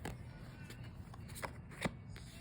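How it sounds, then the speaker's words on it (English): A deck of tarot cards is shuffled close by, with quiet, soft riffling and sliding sounds and a few sharper flicks over low room noise. "I'll shuffle those back in real quick"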